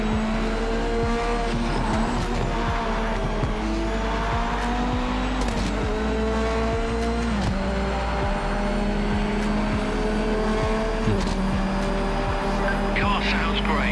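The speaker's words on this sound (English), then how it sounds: "Car sounds great." A race car engine in a VR racing video game drones and shifts in pitch with steady harmonic whine, loud and continuous, with occasional tire squeal as someone talks over it.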